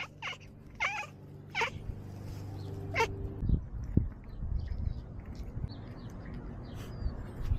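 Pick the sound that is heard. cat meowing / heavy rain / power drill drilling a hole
cat meowing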